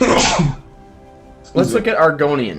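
A single sharp sneeze bursts out at the start, close and loud, followed by a pause and then someone talking.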